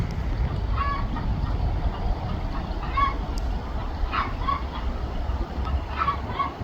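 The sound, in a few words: birds calling near a barn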